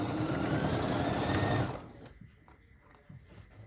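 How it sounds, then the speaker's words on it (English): A domestic sewing machine runs steadily while stitching quilt pieces together, a loud continuous whirring hum for about a second and a half before stopping, followed by faint handling of fabric. "I sewed those two together."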